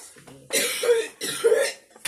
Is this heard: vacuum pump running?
no